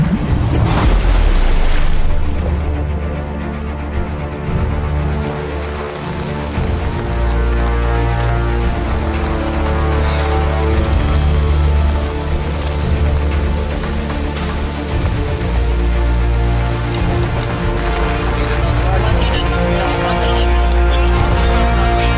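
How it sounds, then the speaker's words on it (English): Rain falls and wind gusts steadily at a lakeside during a carp fishing competition, a dense, continuous roar that stays loud throughout with no talking. "The wind is getting up, the rain's coming down"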